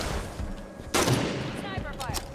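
Bursts of hostile gunfire in Halo 5 multiplayer, a sharp loud volley near the middle over steady game background noise, with rapid rattling shots following.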